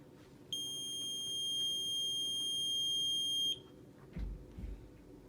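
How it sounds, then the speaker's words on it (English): A BiPAP breathing machine sounds its startup alarm when switched on, giving a loud steady high electronic tone that holds for about three seconds, followed by some handling clunks. "you're going to turn it on, and it's going to alarm off"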